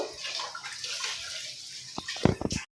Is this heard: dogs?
no